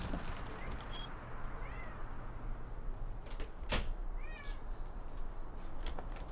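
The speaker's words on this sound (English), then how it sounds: "so she's going to meow a bunch now" A cat meows several times from behind a closed door, with thin rising calls over a steady room hum and a single sharp knock or thud near the middle.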